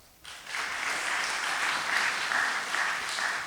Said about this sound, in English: let's have another round of applause for that really inspiring start that she had